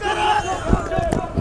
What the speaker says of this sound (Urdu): عمران خان کے نعرے لگائے جا رہے ہیں